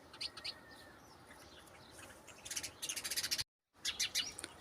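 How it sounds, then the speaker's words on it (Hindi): Several small birds chirp in short, bright bursts against a steady outdoor hiss, the calls clustering toward the end with a brief dropout in the middle. "और कुछ चिड़ियाएँ हैं इधर 4-5"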